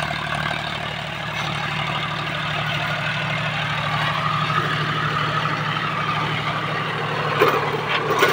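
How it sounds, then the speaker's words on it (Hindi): A John Deere tractor pulling a 6-foot Shaktiman rotavator through a farm field: a steady, loud engine drone with a low throbbing rumble and churning mechanical noise, unbroken for the whole stretch, no voices. "हमारे जॉन डियर ट्रैक्टर के पीछे लगा हुआ है 6 फुट का शक्तिमान का रोटावेटर, परफॉर्मेंस देख सकते हो।"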